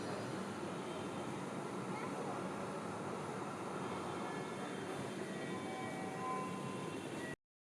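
A train bound for Bijoy Sarani rumbles steadily, a loud continuous roar of wheels and engine that stays close throughout before cutting off abruptly.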